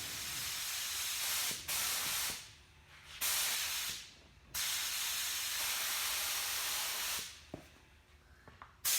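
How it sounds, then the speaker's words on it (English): A spray gun sprays primer onto a Supra in long, steady hissing bursts separated by short pauses, loud and close, with no talking. "I gotta make sure it's spraying good."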